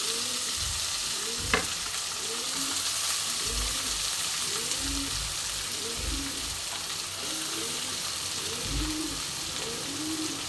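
Two medium chopped onions fry in oil with a halved bay leaf for a fish dish, making a loud, continuous sizzle with a regular, rhythmic churn of stirring beneath it and no talk.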